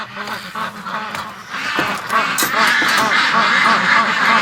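Wintering ducks quack in a busy, overlapping chorus on a frozen lake on a still, sunny winter afternoon, close and continuous, growing louder and denser toward the end.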